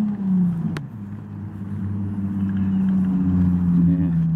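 A loud passing car's engine rumbles close by, its low drone shifting in pitch as it passes, with a sharp click near the start.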